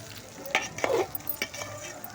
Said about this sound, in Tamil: உப்பு சேர்த்துட்டு நல்லா ஒரு கிளறி விட்டுக்கிடுவோம்.